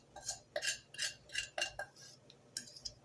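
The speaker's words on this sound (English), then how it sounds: "I'm adding this soup mix, and I need to whisk it in." A whisk beats soup mix into a pot in quick, quiet rhythmic bursts of metallic clinking and scraping, about five or six strokes with brief gaps between them.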